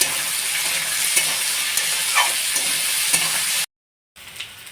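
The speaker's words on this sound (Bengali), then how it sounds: "দিয়ে দেব টমেটো কুচি, আবার নেড়ে নেব" Chopped tomatoes with peas hiss in a hot frying pan, a steady close sizzle broken by soft scrapes of stirring. The sound cuts out briefly near the end, then resumes more faintly.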